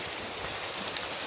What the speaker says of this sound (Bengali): দেখেন খুব বৃষ্টি পড়তেছে